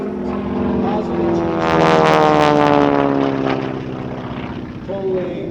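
A propeller-driven Texan trainer airplane roars through aerobatic maneuvers at an air base open house air show, its engine drone swelling louder mid-pass then easing, steady and continuous with a commentator talking over it.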